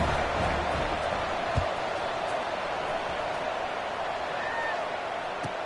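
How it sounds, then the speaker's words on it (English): Steady stadium crowd roar in the college football video game NCAA 26, a broad continuous din filling the whole stretch at an even level, with a commentator's voice over it. "this crowd now ready to get behind them"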